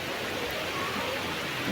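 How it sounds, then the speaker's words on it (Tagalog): Steady rain falls throughout, a dense, even hiss of drops on surfaces with no breaks, moderately loud and heard on its own. "Yan, maligo si Jana ng ulan"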